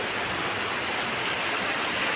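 Heavy monsoon rain pours steadily in a village setting in Odisha, a dense, loud, continuous hiss with no gaps and no voices.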